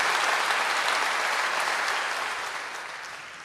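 An audience applauds at an evening concert, a thick, even roar of many hands clapping that starts full and slowly fades toward the end, with no voices over it.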